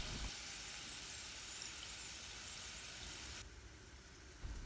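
Okra (lady's finger) frying in hot oil for bhindi kurkure, a steady soft sizzle and hiss that thins out near the end, with a faint clatter at the close and no talking.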